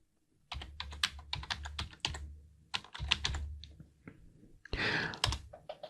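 Quick bursts of clicking keystrokes on a computer keyboard as a passphrase is typed during a Linux server login, close and fairly quiet, with short pauses between clusters.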